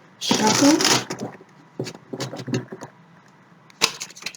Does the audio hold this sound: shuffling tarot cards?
yes